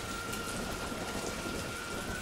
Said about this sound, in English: rain soon falls at the monastery